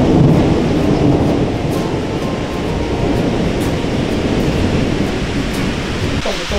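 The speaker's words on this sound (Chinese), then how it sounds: "这雷很恐怖哎。" Thunder rolls over heavy rain in a mountain scenic area near a waterfall pavilion, with a loud, broad, sustained rumble and steady downpour throughout.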